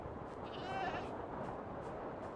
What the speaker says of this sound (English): the most useful tool I have is a pair of shears for the peppermint space sheep